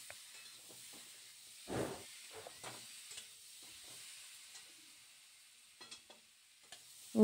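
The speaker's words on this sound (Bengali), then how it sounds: "ভালো করে কষিয়ে নিচ্ছে মশলাটার সাথে আলুটা।" Fried potatoes are stir-fried with spices in a pan, a quiet soft sizzle under scattered scraping strokes of a spatula and a few louder clinks, with no talking.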